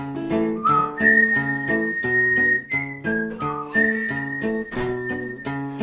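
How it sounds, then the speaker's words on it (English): A man whistles a bright, wandering melody over steady instrumental chords, the clear whistle sliding between notes and holding long tones, close and prominent throughout. "Can you whistle?"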